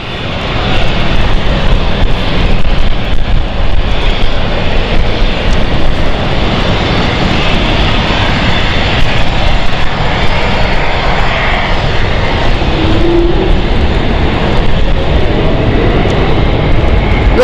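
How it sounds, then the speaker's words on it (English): Roar of a Swiss passenger jet's engines at London City Airport on a stormy night, a loud, steady broadband rumble and whoosh that fills the whole stretch without easing, with no voices over it. "This is a Geneva flight."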